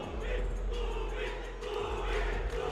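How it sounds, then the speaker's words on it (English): Crowd at Shenzhen Stadium chants at a basketball game, calling for a San Miguel Beermen player, a steady massed roar of voices with rhythmic swells over the arena noise. "Shenzhen Stadium asking for Ronald Tubin, one of the players of San Miguel on that bench"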